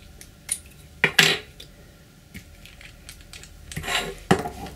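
A small Dior nail polish bottle is shaken in a few short bursts, giving clicky rattles separated by quiet pauses.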